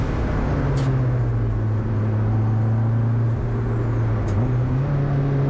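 Turbocharged Mazda MX-5 running on a race circuit, a loud, sustained engine drone heard from on board with steady pitch, slight wavering and a couple of faint ticks over the road and wind noise.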